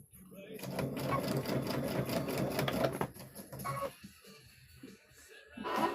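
Sewing machine stitching a trick-or-treat bag, running slowly and steadily for about three seconds, then stopping and starting in short bursts, close and fairly quiet, with someone talking over it.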